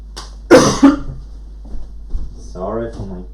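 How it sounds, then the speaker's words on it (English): A man coughs twice in quick succession during a laptop repair session, close to the microphone, then a short quiet pause and a brief throat-clearing or murmured sound. "Sorry for my coughing."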